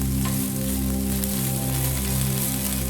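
Steady sizzling of sliced shallots and green chilies sautéing in hot oil, a dense crackling hiss over a low hum throughout.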